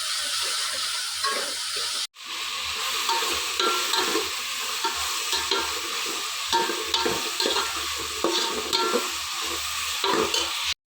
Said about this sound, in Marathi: त्याच तेलामध्ये आता तेजपत्ता टाकलाय मी 2 बारीक. आणि आता इथे कांदा पण शिजायला टाकलाय मी.